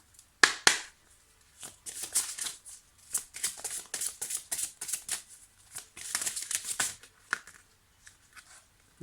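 Oracle cards being shuffled by hand, close and crisp, in repeated quick riffling bursts separated by short pauses, with no talking.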